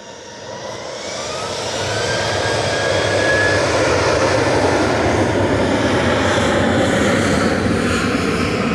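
An airliner departs Manchester Airport, its jet roar building over the first few seconds and then holding as a loud, sustained rumble with a faint whine, with no voices.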